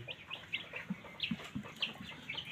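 Desi chickens suffering from coccidiosis cluck in soft, repeated bursts, several birds close by calling in an uneven rhythm with no talk over them.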